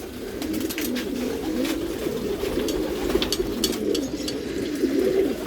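Male racing pigeons coo steadily in a loft in Mirpur, Dhaka, a dense overlapping chorus of low, rolling calls with faint rustling and scattered higher chirps behind them.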